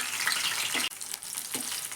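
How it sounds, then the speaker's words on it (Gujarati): Broccoli pieces frying in hot oil in a pan, a dense steady hiss of sizzling that briefly drops off near the middle, then resumes close and moderately loud. "આપણે એની અંદર બ્રોકોલીના થોડા થોડા ટુકડા કરી અને સાંતળી લઈશું."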